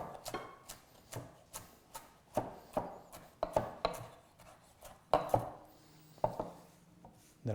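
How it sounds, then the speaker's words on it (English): Knife chopping salad greens fairly fine on a board for bite-sized Caesar salads, a steady run of crisp, close thuds repeating about every half second with no talk. "I take our greens and I'll chop them up fairly fine"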